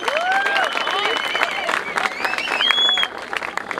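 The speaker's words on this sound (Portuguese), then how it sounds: "Então uma salva de palmas pra Rap Mais também" A crowd at a Batalha da Aldeia rap battle event in Barueri applauds and cheers, dense clapping mixed with shouts and rising whistles, with voices calling out in the lively throng throughout.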